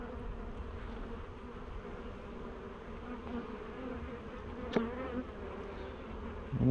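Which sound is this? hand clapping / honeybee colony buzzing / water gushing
honeybee colony buzzing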